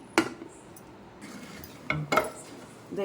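A metal utensil clanks and scrapes against a pot in scattered knocks while mashing pressure-cooked lentils, with soft mushing and stirring noises between the strikes.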